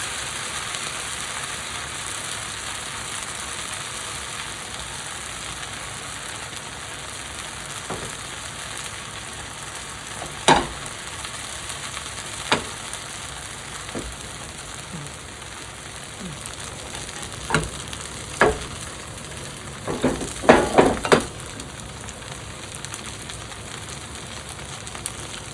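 Lacy cornbread batter fries in a hot pan with a steady, soft sizzle, broken by scattered sharper pops and crackles that cluster near the end.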